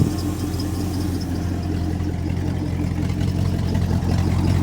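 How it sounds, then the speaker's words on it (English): A restored Dodge W200 truck engine idles with a loud, throaty exhaust rumble and a loose alternator belt, steady and close, the low drone holding evenly throughout with no voices. "The exhaust is very loud."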